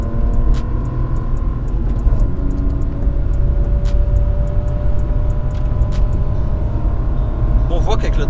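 A BMW E36 320i with its six-cylinder engine accelerates, a loud continuous rumble heard from close by that slowly rises in pitch, with a voice speaking over it.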